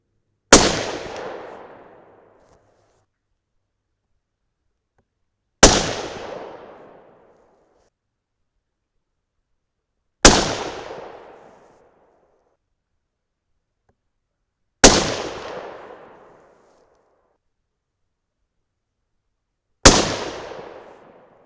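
.300 Win Mag rifle fired with a suppressor, five sharp, loud reports spaced about five seconds apart, each decaying quickly into silence outdoors, with no talking.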